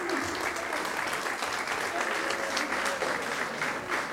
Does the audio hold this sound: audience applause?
yes